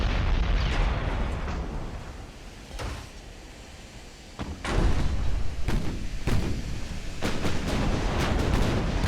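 Torpedo hits and heavy explosions rumble during a naval battle in Ultimate Admiral: Dreadnoughts, loud booming blasts that rise after a short dip and leave a sustained roar with repeated thuds.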